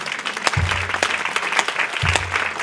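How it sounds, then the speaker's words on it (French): A church congregation applauding at a convention service, sustained clapping from a large crowd filling the space, with a low musical tone swelling underneath. "Je veux qu'on acclame le Seigneur pour leur vie."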